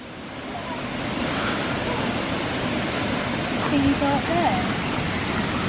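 Rushing waterfall in a Bavarian forest gorge, a steady broad roar of falling water filling the whole clip close by, with people talking briefly over it.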